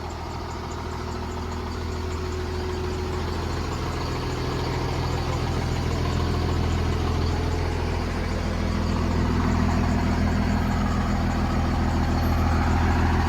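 A Cummins engine in a custom-built Peterbilt on a one-ton chassis idles close by, a steady low rumble that swells slightly louder over the stretch with no talking.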